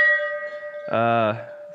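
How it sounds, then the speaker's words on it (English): A bell that survived a house fire rings once, a single clear struck tone with a brief bright ring that fades quickly against a steady background hum. "Oh, here's the bell."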